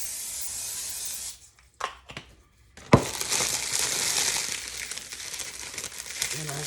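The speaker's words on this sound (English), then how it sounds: "Just gonna spray my pan down." Cooking spray hisses in a sustained burst onto a foil-lined baking pan, following brief crinkles of the foil. The sound is close and moderately loud.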